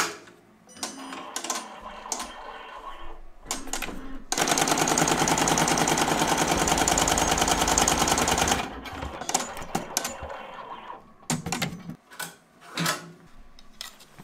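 An embroidery machine stitching an appliqué design on a hoodie gives a loud, even rattling hum for about four seconds, set between scattered clicks and handling knocks, close by, with no talking.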